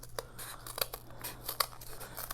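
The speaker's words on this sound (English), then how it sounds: "cut out the tracing that we had just done with our scissors" Scissors snip through paper to cut out a traced shape for a pom-pom maker, a series of quick close crisp cuts in an uneven rhythm, quiet and alone.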